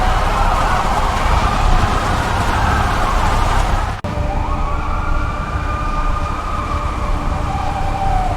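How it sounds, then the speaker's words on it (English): Sirens wail over a dense, steady rumble of city noise, one rising and falling tone carrying on throughout, loud and continuous with no voices. "Cities across the Gulf rang with sirens."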